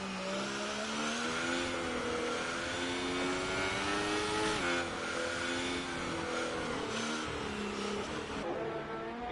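A race car engine in a racing video game set at the Russian GP drones steadily, its pitch dipping and wavering as the car slows, loud and continuous throughout.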